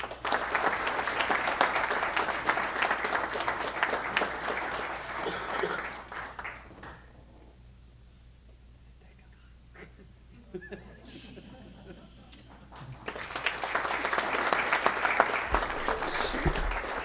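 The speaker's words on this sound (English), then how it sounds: "let's give one round of applause for these gentlemen who serve our community so well" Audience applause for police officers at a St. Bernard council meeting, a dense, sustained burst that fades to a near-silent lull, then a second round of clapping swells back up close and loud.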